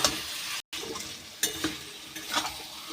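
Chicken stir-fried with turmeric powder in a pan for Hyderabadi chicken kosha: a continuous close sizzle with intermittent spatula scrapes and a brief gap, no talking.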